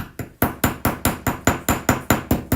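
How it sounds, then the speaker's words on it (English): Metal jewelry filigree being hammered, about nine sharp, evenly spaced strikes in a steady rhythm, loud and close with no talking. "it's hard to get a really good hammering started if you don't do it that way with the thing"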